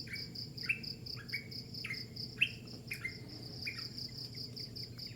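Birds call outdoors, a series of short falling chirps spaced about every half second over a steady insect drone and low background rumble, fairly faint and distant, with no talking.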